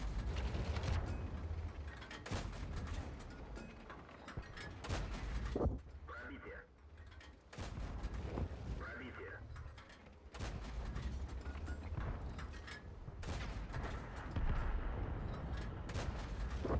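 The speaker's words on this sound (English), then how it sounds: "His gun shoots just as fast as mine." Light tank guns firing in a tank video game, with rapid mechanical shots and clanking bursts running almost continuously under a dense, loud game soundscape, broken by a few brief quieter gaps.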